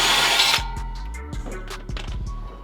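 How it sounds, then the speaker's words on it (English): Drill noise from putting a hole into the exhaust of a Genesis Coupe: a loud, dense whine for about half a second, then it stops and leaves sparse clicks and scraping knocks. "we have to drill a hole into the exhaust to put the spark plug in the exhaust"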